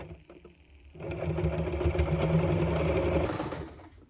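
Sewing machine running steadily for a few seconds as it stitches elastic onto a fabric face mask, starting after a brief pause, fairly close and alone without talk.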